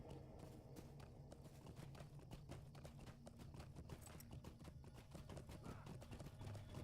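Rapid rhythmic hoofbeats of a galloping horse in the game Lord of the Rings Online, a steady stream of clip-clop thuds at even pace, quiet and continuous, with no talk.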